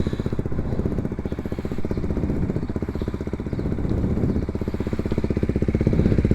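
A Bajaj Dominar 400 motorcycle fitted with a Yoshimura exhaust pipe idles loudly and close by, its rapid, even exhaust pulses steady throughout with slight swells in revs.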